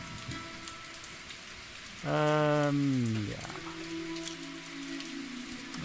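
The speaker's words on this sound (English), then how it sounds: "After many years of drought, the first rain falls." Steady rainfall from a video game, the first rain after a long drought, patters evenly throughout while a loud musical sting with a falling tone swells briefly in the middle; a single short word is spoken.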